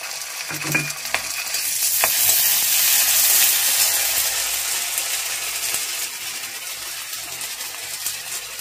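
Mustard and ginger paste hits a hot pan with carom seeds, frying in a loud steady sizzle that swells and then settles, with occasional utensil taps.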